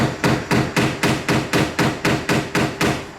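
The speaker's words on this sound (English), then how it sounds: "Just make sure to put in the last of the rivets" Rivets being hammered in while fitting a replacement radiator on a Mitsubishi Outlander: about eleven sharp metallic blows in a steady, even rhythm, close and loud, with no voices.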